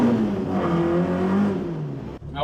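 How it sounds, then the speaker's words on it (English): Car engine on a shakedown run after repair, revving smoothly with a steady, sustained drone that holds evenly before briefly cutting off near the end, no talking over it. "the engine now revs up nice and smoothly"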